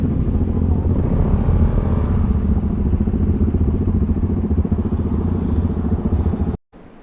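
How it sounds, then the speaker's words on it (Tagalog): A loud motorcycle engine drones steadily up close with a rough, rumbling rhythm, then cuts off abruptly near the end. "Ito ay motor."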